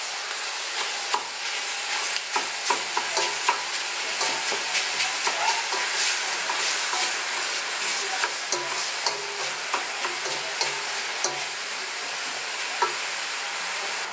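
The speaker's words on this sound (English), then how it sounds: "I'm just going to cook this meat a little bit more start cooking these and the vegetables down." Meat with two diced onions, five stalks of celery and five carrots cooks in a pot, giving a steady close sizzle and crackle broken by frequent scraping stirs, with no talking.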